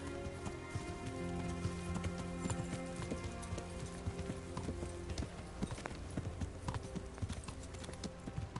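Horse hooves clip-clop steadily at a walking pace in the medieval video game Kingdom Come: Deliverance, with an ambient hiss like rain behind; fairly quiet and continuous with no talk.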